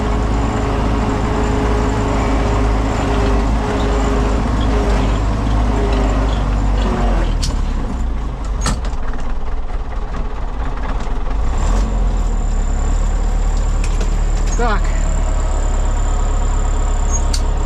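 A heavy tractor engine idles steadily and loudly throughout, with a deep low rumble and occasional clanks and rattles over it.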